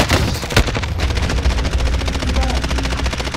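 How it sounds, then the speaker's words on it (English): Rapid automatic gunfire from another player in Call of Duty: Warzone, loud and continuous bursts of machine-gun fire filling the whole moment with no talk. "someone else shooting"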